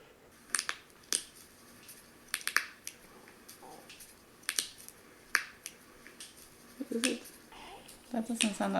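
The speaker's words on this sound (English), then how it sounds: "That's people cracking their toes and knuckles." A recording of people cracking their toes and knuckles plays as a scattered series of sharp, dry pops and clicks, fairly quiet and irregularly spaced, with some speech near the end.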